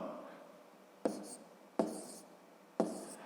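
A pen writes numbers for long division on paper with three short, close scratching strokes against a quiet room.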